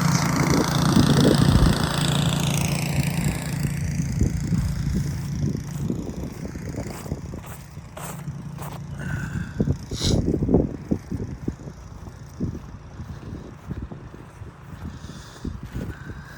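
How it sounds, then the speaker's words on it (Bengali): A snow-clearing machine grinds and rumbles steadily along a street during a snowstorm in Omaha, Nebraska, its engine drone continuous and moderately close, with scraping and wind noise layered over it. "মেশিন দিয়ে সব পরিষ্কার করছে।"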